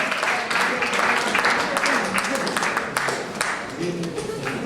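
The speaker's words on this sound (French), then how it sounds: "On l'applaudit s'il vous plaît." An audience at a slam poetry competition in Antananarivo applauds the first-place winner, with dense, steady clapping filling the room and voices mixed in underneath.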